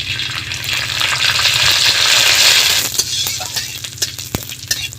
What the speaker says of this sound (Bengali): তেলে আমি কারি পাতাটা ভেজে নেব।